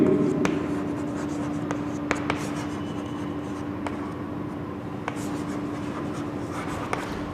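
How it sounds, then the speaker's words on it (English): Handwriting on paper during an English grammar lesson, a steady soft scratching of the pen that runs throughout, with a few faint taps and clicks over a low background hum and no talking. "Let me write it for you."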